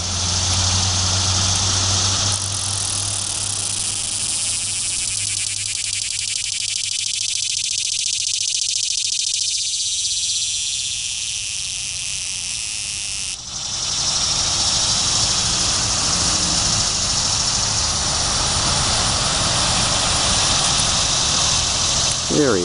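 Delaware annual cicadas buzz in a big tree outdoors, a steady, continuous high drone that holds throughout, with a brief dip in intensity near the middle.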